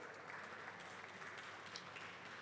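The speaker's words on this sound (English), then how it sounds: "A round of applause." A conference audience at a fintech event applauding, a faint, steady wash of many hands clapping heard from a distance.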